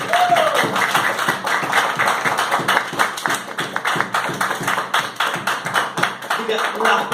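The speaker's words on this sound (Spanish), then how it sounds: "Un aplauso a Cristo Jesús, aleluya." Church congregation applauding during a Spanish-language worship service, a dense, steady roar of many hands clapping throughout, loud and close, with brief voices mixed in.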